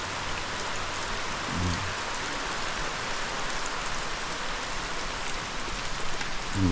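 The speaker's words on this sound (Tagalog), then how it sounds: "grabe ang ulan" Heavy rain pours down steadily, a dense, even hiss of drops on surfaces that continues without a break. Rain is the only sound.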